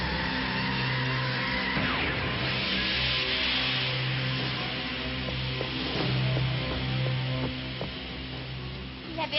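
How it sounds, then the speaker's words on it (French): Animated cartoon scene of a runaway bandits' car skidding on a water puddle and zigzagging out of control, with a steady loud engine hum, a swooping skid and whoosh effects over a busy continuous soundtrack. "le véhicule des bandits dérapa sur une flaque d'eau et se mit à zigzaguer sans pouvoir s'arrêter"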